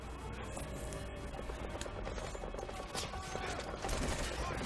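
Dual revolvers firing in Metal Gear Solid V, with rapid sharp shots and ricochets layered over a dense, steady din of combat noise at moderate loudness throughout.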